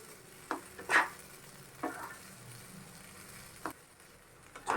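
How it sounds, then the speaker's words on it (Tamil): Boiled carrots and beans being sautéed with onions in a pan, a low sizzle under a few distinct spatula scrapes and taps spaced a second or so apart, near and quiet, without speech. "இதை இப்போ கொஞ்சம் நேரம் வதக்கிக்கலாம்"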